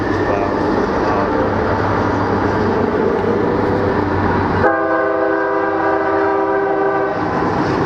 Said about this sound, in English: the train's fixing to come here, but yeah, we have to stop court sometimes. Yeah, it's loud.